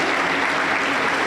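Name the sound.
church congregation applause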